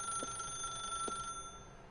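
A telephone rings in the video game The Stanley Parable, two short ring bursts sounding alone over a faint steady electronic hum.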